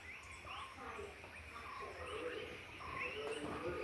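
Various birds call and chirp from trees near a patch of woodland, a faint mix of scattered chirps and short whistles at a moderate distance over a soft background hum.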